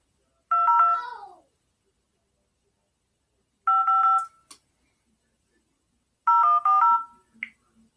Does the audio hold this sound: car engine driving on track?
no